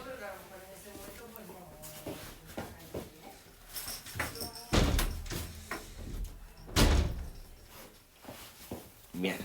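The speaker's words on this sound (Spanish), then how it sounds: "pues voy a cerrar la puerta" An indoor door is closed at home during a live online physics lesson, giving two loud, close thuds with voices murmuring in the background.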